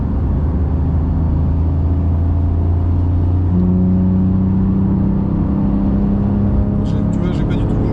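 A Porsche accelerating on a rain-soaked Magny-Cours circuit, heard from inside the car as a loud, steady engine drone whose pitch climbs gently under part throttle, with a faint voice near the end.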